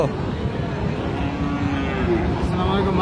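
Cattle moo at a busy cattle market selling Friesian and crossbred bull calves, with a drawn-out low bellow rising over a constant crowd din and murmured voices.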